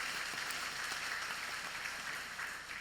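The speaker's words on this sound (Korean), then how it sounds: "우리 하나님께 영광의 박수 올려드리겠습니다." A church congregation applauds during a worship service, with a soft, distant, continuous patter of many hands clapping.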